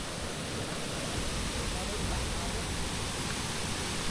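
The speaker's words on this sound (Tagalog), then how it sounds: "Malakas din ang alon." Sea waves breaking near a shallow shore, a steady loud broadband wash of surf with no distinct individual crashes, continuous throughout.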